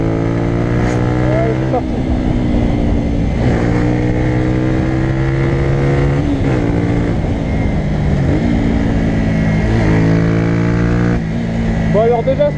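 A 2016 Honda CBR125R engine revs up through the gears again and again on uphill bends, pitch climbing and dropping, with steady wind rush over it.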